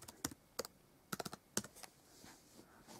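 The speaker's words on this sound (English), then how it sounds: "let me write my password in quickly" Password being typed on a 14-inch laptop keyboard, a quick run of light key clicks in short bursts with pauses between, close and fairly quiet, tapering off near the end.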